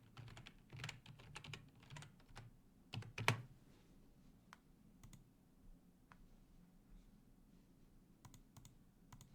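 Someone types a password on a computer keyboard in short quiet bursts of clicking keystrokes, with a louder clack midway and sparse taps afterward.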